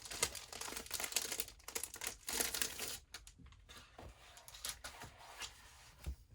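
Scrapbook papers from a new Valentine-themed paper pack crinkle and rustle close up as they are pulled from their packaging, a quiet run of irregular crackles with brief pauses and no talk.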